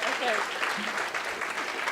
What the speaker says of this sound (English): Once again, round of applause, please, while the photo is being taken.